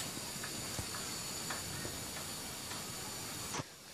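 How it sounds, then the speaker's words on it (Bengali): Milk heating on a stove for semai vermicelli pudding gives off a steady, close hiss with faint bubbling ticks, then cuts off abruptly near the end. "দেখুন দুধটা বলক এসেছে"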